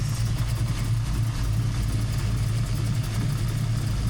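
A Chevy Nova engine runs at a steady, low, even idle with its power steering pump working and the wheels off the ground, a constant close drone with no voices.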